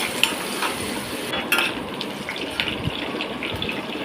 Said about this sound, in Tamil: வெங்காயம் நல்லா பொன்னிறமாக வதக்குங்க.